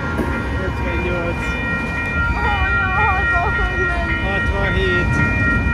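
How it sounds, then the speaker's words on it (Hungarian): A very long train of many railway wagons rolls past at close range, a steady loud rumble with squealing wheel and brake tones that hold throughout. "ilyen hosszú vonatot még életemben nem láttam."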